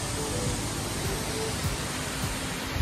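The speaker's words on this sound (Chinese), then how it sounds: "那它还是有瀑布的，我们可以看到，" Broadband rushing water from a natural waterfall amid untouched nature on a rainy day in Penang, a steady, fairly loud wash that continues without break.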